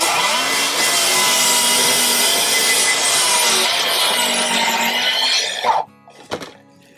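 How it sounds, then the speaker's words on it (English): A RIDGID 18V cordless 7 1/4 inch mitre saw whines loudly through a 45 degree cut in wood for about six seconds, then spins down, followed by a couple of clunks. "so now that we have the saw upright, let's do a 45 cut"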